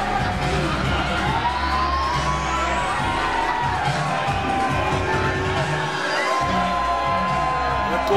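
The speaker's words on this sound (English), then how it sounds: "the crowd serenading him with the piece of shit chant" An independent wrestling event crowd at Rumble in the Dot 2021 cheers and chants loudly and continuously, a dense roar of many voices with shouts rising through it.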